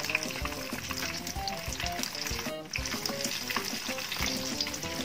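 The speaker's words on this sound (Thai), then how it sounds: "ดี๋ยวเราทอดจนปลาทูสุกนะคะ" Mackerel fries in hot oil in a pan, a dense, continuous sizzle and crackle with small pops throughout, close and fairly loud, with no voices.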